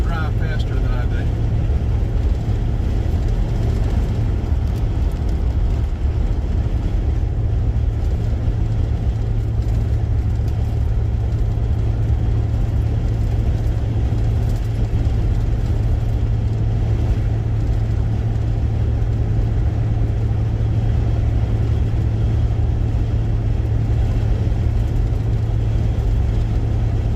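Car cruising along US Highway 301 north from Folkston, Georgia, with a steady low engine and road rumble throughout, broadband tire hiss, and no clear talk.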